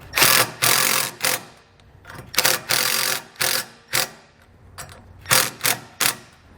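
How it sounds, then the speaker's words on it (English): A power driver runs self-tapping screws into a base plate bracket during a tow wiring install on a 2014 vehicle, giving loud close bursts of whirring, buzzy driving in an uneven start-stop rhythm with short pauses between. "I'm just going to take some self-tapping screws, kind of get these started, and then run them down until they're snug"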